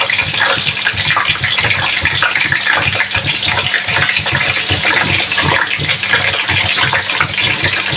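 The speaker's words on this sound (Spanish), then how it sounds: "Vamos a proceder a freír de a poco las berenjenas hasta que estén doraditas." Eggplant pieces fry in hot oil for a Sicilian caponata, giving a loud, constant sizzle and spatter close by, with no voices.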